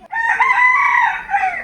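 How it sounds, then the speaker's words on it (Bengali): A rooster crows loudly and close by in one long, drawn-out call that rises and holds before trailing off, standing alone with no talk. "হ্যাঁ মরকও ডাকছে"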